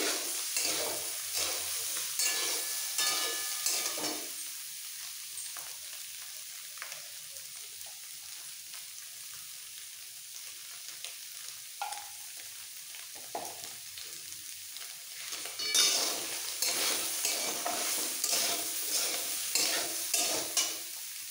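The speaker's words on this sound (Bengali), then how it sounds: "সোয়াবিন ভাজা হয়ে গেছে" Soybean chunks sizzle in hot oil in a pan with a little salt, while a spatula scrapes and stirs them in repeated bursts. The frying hiss is steady and close, with no talk.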